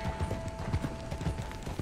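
Horse hooves clip-clop in the video game Red Dead Redemption 2, a quiet, steady trotting rhythm of soft thuds with a faint constant tone underneath.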